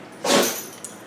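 A single short, sharp human sneeze bursts out close by, followed by a faint tail and a small click.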